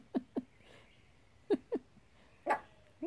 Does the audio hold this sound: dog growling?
yes